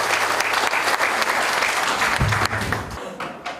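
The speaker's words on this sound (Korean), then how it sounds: "큰 박수 부탁드리겠습니다" An audience claps warmly at the opening ceremony for the new head office building of the Icheon livestock cooperative. The dense applause is steady and fairly close, then tapers off near the end.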